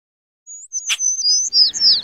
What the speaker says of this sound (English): I actually added the bird sound effect.